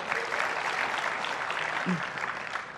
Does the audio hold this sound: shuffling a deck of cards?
no